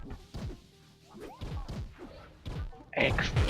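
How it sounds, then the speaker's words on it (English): Bombs go off in the blocky online game Trove, a series of heavy thumping blasts in quick succession, the last one loudest and most crashing. "Explosions! Yes, I love explosions."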